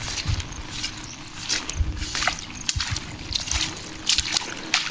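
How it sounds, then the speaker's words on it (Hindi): Monsoon rain with water pooled and running, a steady splashing and trickling wash with irregular louder sloshes, recorded close by outdoors. "आज भी बारिश चालू है।"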